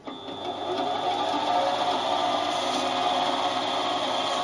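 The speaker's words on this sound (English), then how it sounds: "it's ready, start the mill" A milling machine cutting into a workpiece on a rotary table, a steady dense mechanical whir and grinding hum that swells up within the first half second and holds constant and close.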